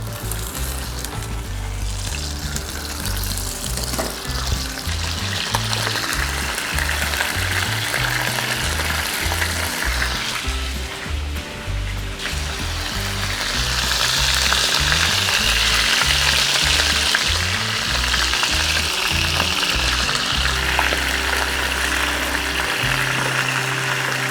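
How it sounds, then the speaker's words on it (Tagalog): Beef browning in a pan for Christmas caldereta, a steady loud sizzle and frying hiss with occasional stirring and clatter, swelling louder near the end, no talk. "So, lagyan natin beef natin. Nice. And let, let it brown."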